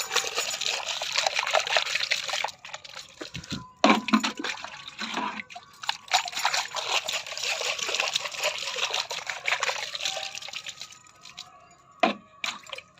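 Water is poured into a tank in a village garden, pouring and trickling steadily nearby, a continuous splashing stream with a few brief dips and drips toward the end.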